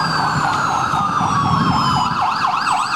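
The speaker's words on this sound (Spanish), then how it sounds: "Las sirenas anunciaron su llegada y pusieron alerta al personal de la Fiscalía General" Police escort sirens wail loud and close as the vehicles arrive at the Attorney General's office in Ecuador, several overlapping rising and falling tones cycling steadily over road noise.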